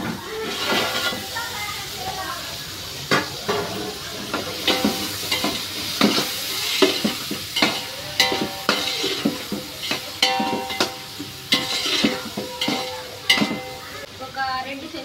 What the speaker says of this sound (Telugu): ఇదిగోండి ఒక 5 నిమిషాలు టమాటా మగ్గేంత వరకు మూత పెట్టి వేపుకుందాం